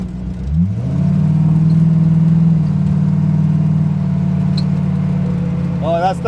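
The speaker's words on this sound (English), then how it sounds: "that's the Mustang engine at work there" A 1932 Ford Model Y hot rod fitted with a Mustang engine starts up and runs, settling into a loud, steady, close rumble with slight rev changes and a brief whirring at the end.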